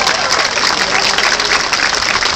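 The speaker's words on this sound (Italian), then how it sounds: "Gli applausi non vi sono stati sufficienti, ne facciamo altri!" A live audience at an Italian comedy show claps steadily and energetically, a dense continuous roar of applause with no pauses.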